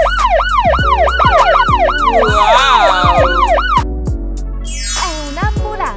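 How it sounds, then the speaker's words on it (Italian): An ambulance siren wails loud and close in a rapid rising-and-falling pattern, repeating steadily over a low engine rumble, with a brief excited voice over it. "È proprio un'ambulanza!"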